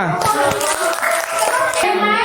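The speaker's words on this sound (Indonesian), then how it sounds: "Tepuk tangan kelompok 5." A classroom group breaks into quick, close clapping, crisp hand claps in a rapid patter with voices talking over them.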